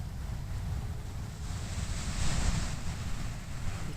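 Ocean surf at Doran Beach, a steady low rumble of waves heard from a campsite a short distance away, with wind noise and a gentle swell in loudness midway, no voices.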